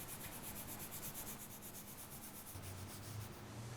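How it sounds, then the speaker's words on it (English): Rust is scrubbed off a steel barbell in quick, rhythmic back-and-forth strokes, a faint, close, hissing rub repeating steadily with no voices. "So you're going to want to give it a really good scrub."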